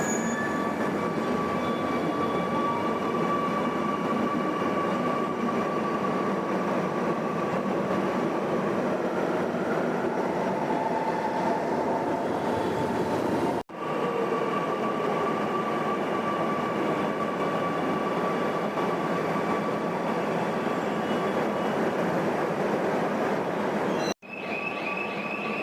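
A Kochi Metro train with three coaches runs steadily and loudly from close by, its rolling rumble and faint wheel whine continuous, broken by two brief dips.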